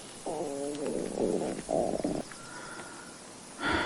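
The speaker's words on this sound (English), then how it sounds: "My stomach growled." A hungry stomach growls up close in a quiet room, a few drawn-out gurgling rumbles broken by short pauses, with a faint sigh of breath at the end.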